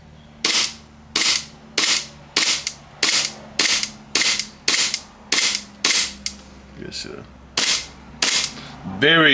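Army Armament R604 STI DVC 4.3 pistol, unloaded, with its trigger clicking and resetting about fourteen times in a steady, close, crisp rhythm, with a brief pause near the end.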